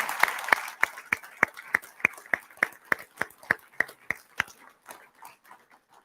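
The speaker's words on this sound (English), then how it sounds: "We got to give them a round of applause" A small audience at a state historic preservation awards ceremony in Lansing gives the organizers a round of applause, heard as sparse, distinct individual claps in a loose rhythm rather than a dense roar.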